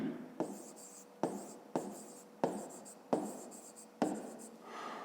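A pen or pencil writes by hand for a school maths exercise, with six distinct bursts of scratchy strokes tapping onto paper at irregular intervals, close and clear with no speech.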